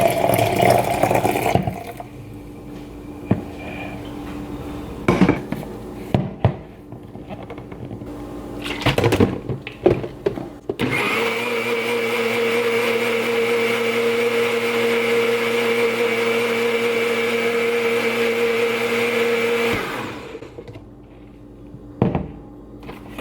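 A blender whirs steadily for about nine seconds, mixing bulletproof coffee, after scattered thunks and clatter of preparation. The motor then cuts off.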